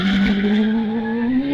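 A hillclimb race car launches off the start line at the British HillClimb Final at Loton Park, its engine note rising steadily and loudly from the first moment to the end with no break.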